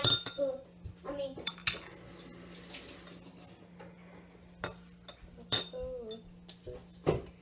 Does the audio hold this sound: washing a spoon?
yes